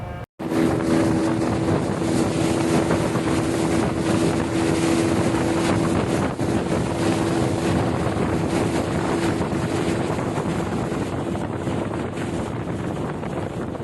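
Speedboat running along a river toward a coastal village, its engine a loud, steady drone with heavy wind buffeting and water rush throughout, no voices.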